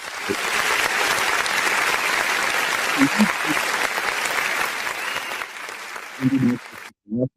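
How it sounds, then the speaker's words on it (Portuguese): Applause for a birthday on a Brazilian talk show, a steady round of clapping that fades out near the end as a few words of speech break in. "dá uma salva de palmas"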